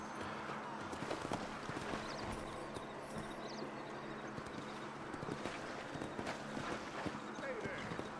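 A horse in the video game Red Dead Redemption, heard as steady clip-clop hoofbeats under ongoing low-level game noise, with soft speech mixed in.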